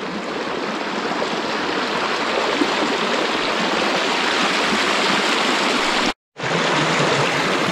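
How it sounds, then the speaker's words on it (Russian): Water tears through a washed-out breach in a beaver dam on a river, a steady, loud, close-up rush that drops out for a split second near the end before surging on. "вода с бешеной скоростью устремляется вниз, куда ее раньше не пускала эта плотина"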